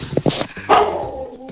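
A dog barks in a few sharp, close yips and barks, followed by a longer whining bark that trails off, loud and with no talking over it.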